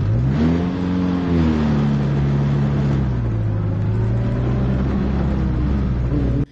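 A Formula Renault race car pulls away from the pits, its engine loud and close, the pitch climbing through a rising rev and then holding high and strained before cutting off abruptly.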